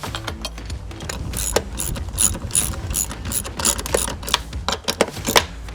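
A ratchet wrench clicks steadily as bolts with washers are driven into pre-threaded holes on a Holman drop-down ladder rack bracket on a RAM ProMaster van, loud and close in repeated bursts of quick ratcheting.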